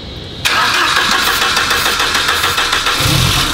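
A car engine cranks and catches after a jump start, roaring to life abruptly and holding a loud, steady run close by, a car just delivered from Japan.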